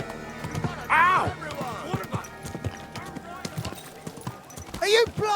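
Horse hooves clip-clop in an uneven, busy rhythm close by, with a neigh-like cry and people talking over the clattering steps.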